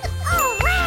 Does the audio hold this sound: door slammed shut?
no